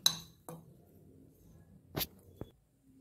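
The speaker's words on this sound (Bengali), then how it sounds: "অল্প একটু লঙ্কার গুঁড়ো নিলাম নিয়ে ডিমটাকে ভালো করে মাখিয়ে নিলাম" Eggs mixed with a little chili powder in a dish while making egg korma, heard as a few sharp, close utensil clinks spaced across a quiet background.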